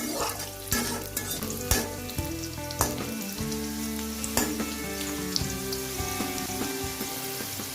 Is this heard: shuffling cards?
no